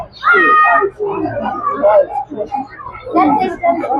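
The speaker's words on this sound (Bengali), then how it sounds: "এই বিড়ালটার দাম সাড়ে তিনশো রিয়েল" A cat meows several times up close at a bird and pet market in Riyadh, Saudi Arabia, with people talking over and around the calls.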